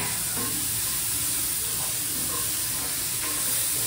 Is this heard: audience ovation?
no